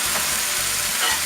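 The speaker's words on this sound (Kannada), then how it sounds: "ಇದನ್ನೆಲ್ಲ ಚೆನ್ನಾಗಿ ಫ್ರೈ ಮಾಡ್ಕೊಳ್ಳೋಣ, ಈರುಳ್ಳಿ ಕೆಂಪಾಗೋವರೆಗೂ." Onions, curry leaves and dried chilies frying hard in a pan for an ivy gourd stir fry, a loud steady sizzle filling the whole moment with no voices.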